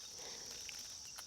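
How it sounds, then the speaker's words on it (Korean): Steady high-pitched cicada drone in the background, faint and continuous, with insect chirring under it and no voices. "찌익하는 이게 매미소리"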